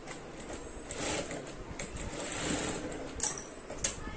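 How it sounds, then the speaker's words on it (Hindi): Faintly, a sewing machine stitches an invisible zip into a gown. The mechanism whirs softly in short runs, broken by a couple of light metallic clicks. "ये मैंने थोड़ा सा सिलाई लगा लिया"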